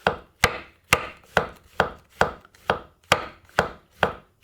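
Shiitake mushrooms sliced thinly with a knife, about ten crisp, evenly spaced board taps in a steady rhythm, close and clear with quiet gaps between cuts.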